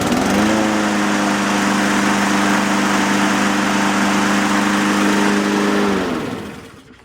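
A Husqvarna HU700F push lawn mower engine runs loud and steady beside a garage for about six seconds, then cuts off and winds down to silence.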